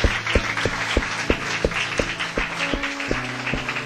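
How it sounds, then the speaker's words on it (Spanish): A church congregation claps in a steady, rhythmic beat, roughly three claps a second, over sustained music tones, loud and close. "Dele un fuerte aplauso al Señor Jesucristo."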